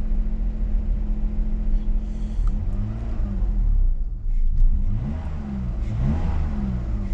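BMW 523i engine revving with its airflow meter unplugged, a steady close idle rumble that rises into several repeated revs and falls back, with no talk over it.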